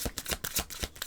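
Oracle cards shuffled by hand in a short, close burst of rapid papery riffles and slaps, with no voice over it.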